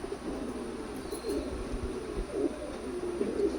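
Pigeons coo softly and repeatedly at a Kolkata pigeon sale of fancy breeds, the low murmuring calls steady and fairly close against crowd background noise.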